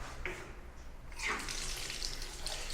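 Water runs from a tap in a public toilet in Uzbekistan, a steady hissing stream that swells louder partway through and keeps flowing close by.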